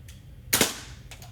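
One crisp, fairly quiet shot from a Crosman MK45 CO2-powered BB pistol cracks during target testing, flanked by faint ticks of a pellet striking the target just before and after.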